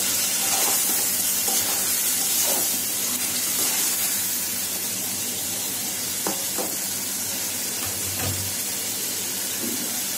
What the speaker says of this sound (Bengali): একটু কষিয়ে ভুনে নিচ্ছি।